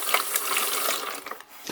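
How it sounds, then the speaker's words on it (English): Warm tap water runs steadily into a sink while a Bosch dishwasher part is rinsed of grease, a close splashing flow with small clinks of handling, no voices. "I'm just using some warm water, because again, that'll help take the grease away a little bit better as well"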